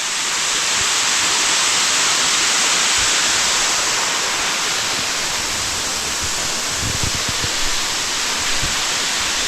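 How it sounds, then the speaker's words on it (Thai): A natural waterfall roars in a steady, dense wash of falling water, loud and unbroken throughout, with no voices over it. "น้ำตก แบบนี้นะ"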